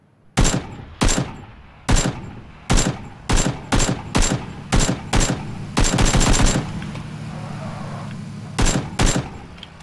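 Gunfire in PlayerUnknown's Battlegrounds: a run of loud, sharp single shots in quick rhythm, then a dense rapid burst of automatic fire with a lingering low rumble, and two more close shots near the end.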